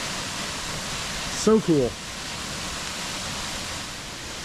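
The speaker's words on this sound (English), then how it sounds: "All right, that was Featherhawk Falls. That is spectacular. What a beautiful waterfall." Feather Hawk Falls in the Sipsey Wilderness pours with a steady, broad rushing roar that fills the scene, with a brief spoken remark partway through.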